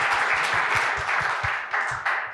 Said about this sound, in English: We can give her a round of applause as she makes her way off the stage